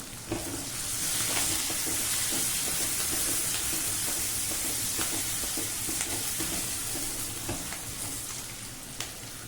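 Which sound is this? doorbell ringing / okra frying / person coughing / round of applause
okra frying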